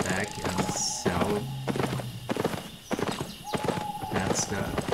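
Horse hooves clip-clop in a steady rhythm in the Albion Online video game, with an occasional whinny and someone talking over the trotting.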